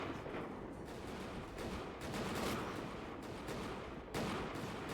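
Massed musket volleys in Mount & Blade II: Bannerlord, a 1700s European siege battle with a ram and catapults, a continuous crackle of overlapping gunshots with several louder bursts.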